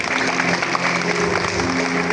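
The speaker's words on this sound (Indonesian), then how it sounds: "Oke, tepuk tangan dong." Parents and students applaud at a high school ceremony, a continuous wash of many hands clapping in a reverberant hall, steady and fairly loud throughout.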